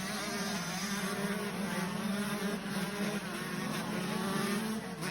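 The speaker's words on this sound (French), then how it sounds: "le son du deux temps, c'est quand même mélodieux" Two-stroke 125cc motocross bikes racing at a French event, a buzzing, rising and falling engine whine at moderate distance, steady and continuous.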